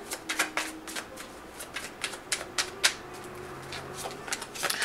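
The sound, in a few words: shuffling and pulling tarot cards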